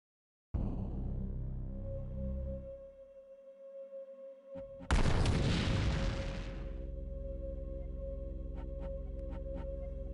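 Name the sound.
gunfire shooting back, from video game Realms of the Haunting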